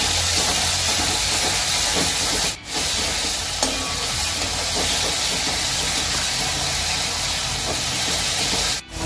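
Ground masala paste meets hot oil in a pan for a Khandeshi gavran chicken curry and gives off a loud, steady hiss and sizzle that runs unbroken, with two brief dips.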